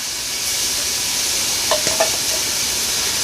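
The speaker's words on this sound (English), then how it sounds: "I'm going to go on and stir that minced garlic around just a little bit to let it get toasted up just a little" Minced garlic and hamburger meat sizzle in an Instant Pot with a steady, loud frying hiss, and a few faint clinks of a spoon stirring break through near the end.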